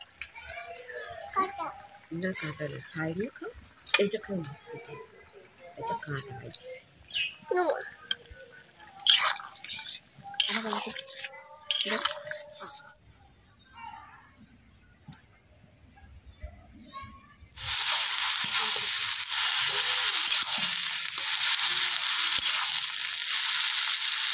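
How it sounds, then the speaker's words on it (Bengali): Pieces of Katla fish go into a thin, boiling village-style curry broth with potato, tomato, onion and coriander, raising a loud, steady hiss over the final stretch after earlier children's voices, chatter and scattered drips. "ঝোল ফুটে গেছে, মাছের পিসগুলো দিয়ে দেবো"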